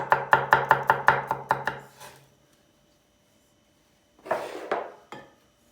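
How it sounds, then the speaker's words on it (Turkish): A knife chops garlic on a board in a quick, even run of about nine sharp taps, then pauses for a couple of seconds before a few more scraping, rustling chops close by. "İçine tabandan lezzet versin diye üçlü sarımsak doğruyoruz."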